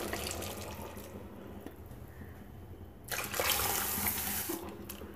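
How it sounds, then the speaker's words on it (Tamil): Water is poured into a pot of spicy country chicken kurma with ground masala paste, giving a steady splashing trickle. A louder, brighter gush of pouring follows partway through, with no talking. "தண்ணி கொஞ்சமாக ஊற்றிக்கலாம்."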